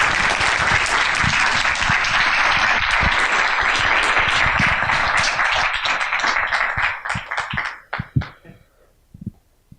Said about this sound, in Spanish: les pido un fuerte aplauso para recibir a los arquitectos